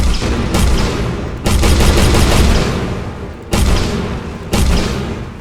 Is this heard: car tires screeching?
no